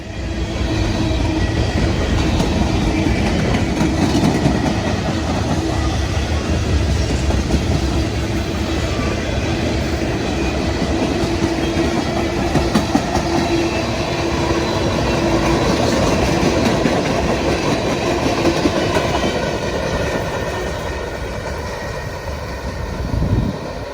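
A Norfolk Southern freight train rolls past at length, a continuous loud rumble and clatter of cars on the rails that holds steady before easing slightly at the end.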